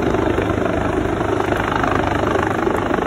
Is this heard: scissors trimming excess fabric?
no